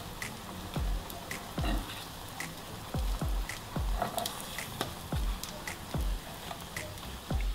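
Eggplant slices frying in oil in a pan, a constant sizzle broken by sharp, regular pops and crackles, close and fairly loud with no talking.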